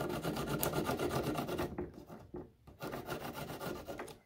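A litho plate rubbed with a Sharpie lid to curve it for aircraft fuselage cladding, giving a steady close scraping rasp that pauses briefly midway and then resumes.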